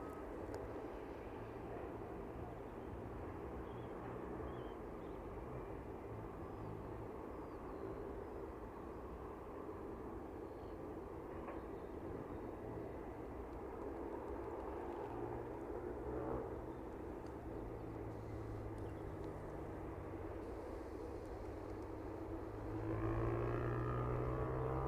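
A cargo or passenger aircraft arriving at East Midlands Airport, its engines a distant, steady low rumble and whine holding throughout, swelling slightly louder near the end.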